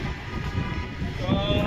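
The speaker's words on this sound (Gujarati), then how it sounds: "પવન એટલો છે કે તમે લોકો વાત જ ના પૂછો" Strong wind buffets a microphone on a rooftop in Chandkheda during Uttarayan kite flying, a steady, loud rushing roar that swells slightly toward the end and continues without pause.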